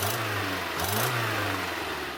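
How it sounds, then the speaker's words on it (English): A Ford Festiva engine runs with an exhaust leak at the front of the engine, a close, noisy, rough drone with a brief rise and fall in revs partway through. "There is still an obvious exhaust leak at the front of the engine."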